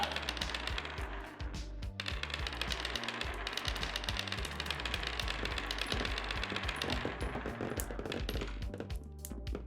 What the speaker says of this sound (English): Machine gun it is.